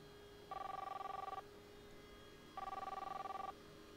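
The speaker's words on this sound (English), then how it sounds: "Phone." A telephone rings in an office scene of the VR shooting game Silicon Rising, two bright electronic ring bursts about a second long each, separated by a pause, steady and clear over a quiet background hum.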